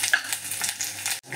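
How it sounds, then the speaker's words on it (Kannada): Byadgi chillies with garlic cloves and fenugreek seeds frying in a hot pan, a bright steady sizzle with light stirring scrapes, cutting off abruptly near the end. "ಇದನ್ನು ಸ್ವಲ್ಪ ಫ್ರೈ ಮಾಡೋಣ"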